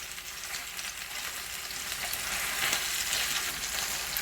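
Chicken pieces frying in a pan for a keto fried chicken dish, giving a steady, dense sizzle that swells slightly louder midway and carries on without pause, with no voices present.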